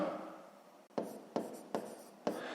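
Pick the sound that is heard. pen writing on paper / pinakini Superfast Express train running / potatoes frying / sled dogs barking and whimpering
pen writing on paper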